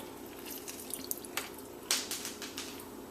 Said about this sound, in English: Just going to continue squeezing out all the juice from that lemon there